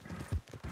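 Horse hooves clip-clop in Red Dead Redemption 2, a few quick, muffled thuds close by over a brief stretch, with no talk.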